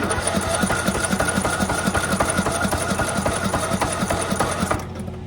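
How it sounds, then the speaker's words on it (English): A 1986 Nissan 300ZX with long-neglected oil cranks on the starter without catching, a rapid rhythmic mechanical churning held steady for about five seconds, close and fairly loud, then cutting off abruptly. "if the battery's got any juice in it, just to show you guys what the engine sounds like"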